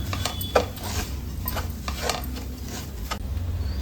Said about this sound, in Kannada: ರವೆ ಚೆನ್ನಾಗಿ ಫ್ರೈ ಮಾಡ್ಕೊಳ್ಬೇಕು.